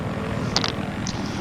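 Attack helicopter in a video game flying with a steady, droning engine and rotor hum throughout, plus a couple of faint higher chirps over it.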